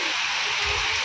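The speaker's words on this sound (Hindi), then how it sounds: "बारिश आ चुकी है यहाँ बहुत तेज" Heavy rain falls steadily in an outdoor village setting, a dense continuous hiss of drops, loud and close, with a faint low rumble near the end.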